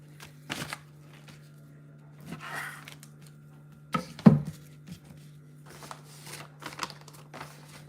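A knife trims meat during Sunday morning preparation, giving sparse soft cutting and scraping sounds with a few sharper clicks on a board, quiet and close, alone under a steady low hum.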